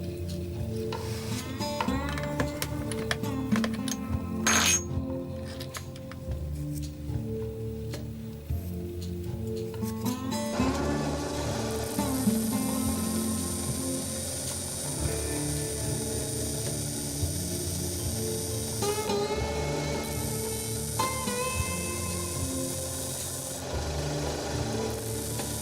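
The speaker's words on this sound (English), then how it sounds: "with the help of the sander, I round off the end of the pin." A sander grinds down the end of a homemade steel pin with a continuous harsh, gritty rasp that rises and shifts in pitch. It stays close and loud throughout, with no talking.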